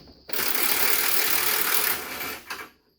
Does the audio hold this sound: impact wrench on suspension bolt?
yes